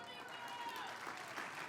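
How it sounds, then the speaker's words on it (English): An audience claps at a LULAC national convention during a senator's speech, a short, dense burst of steady applause, moderately loud and continuous throughout. "You can clap."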